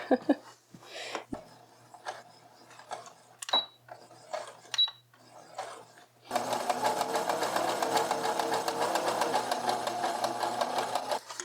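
A sewing machine stitching fabric: a few short bursts and clicks with quiet pauses, then a steady close, loud run of rapid stitching for about five seconds.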